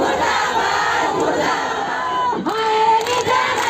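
Protest crowd of ASHA workers at the health minister's residence, chanting slogans against the government, a dense continuous roar of many voices with a rising shout near the end.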